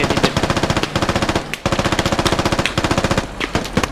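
Sustained rapid machine-gun fire in a video game, loud and close, with long bursts of evenly spaced shots broken by a brief pause.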